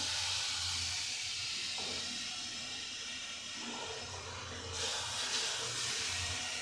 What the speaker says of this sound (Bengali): অল্প করে জল দিয়ে দেবো।